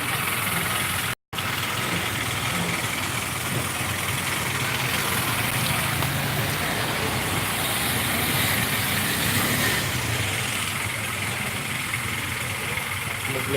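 Vehicles struggle along a flooded road: a steady, loud engine rumble and churning noise runs almost throughout, broken once by a brief gap near the start, with a voice occasionally under it.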